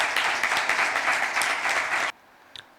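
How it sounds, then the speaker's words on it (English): An audience at a secondary school debate applauds for about two seconds, a loud dense burst that cuts off abruptly into quiet with a brief small knock. "please give the Ottos Comprehensive a round of applause"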